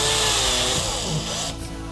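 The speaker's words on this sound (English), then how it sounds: "So we're about to drill through this item here" A power drill whirs continuously as it bores through a backing plate into timber, close and fairly loud, then cuts off near the end.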